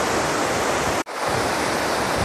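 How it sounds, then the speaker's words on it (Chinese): Ocean surf at Vung Tau beach in Vietnam makes a loud, close, continuous rushing roar of breaking waves. The roar drops out for a split second near the middle, then carries on, with no voices. "咁啊聽啲海浪聲都知啦。"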